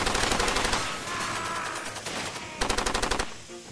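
Bursts of rapid automatic gunfire from an enemy in the Far Cry 2 game, loud and close, in two stuttering volleys separated by a short lull with lingering echo.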